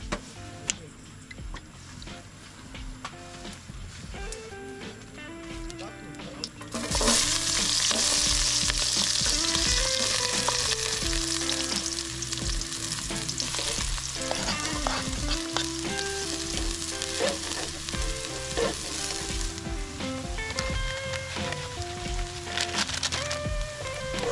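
Dinner frying in a pan at a car-camping site: a steady, loud sizzle that swells sharply after a few seconds and keeps crackling with scraping and stirring clatter throughout.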